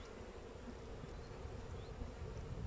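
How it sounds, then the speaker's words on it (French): Honeybees buzz around an opened hive during a spring inspection, a faint steady hum with no clear pauses throughout. "Il y a un petit paquet d'abeilles."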